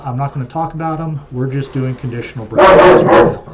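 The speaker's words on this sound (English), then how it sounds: "Excuse the dogs." Dogs bark loudly indoors in a short burst of several overlapping barks right after a man's speech, which runs beneath and before the barking.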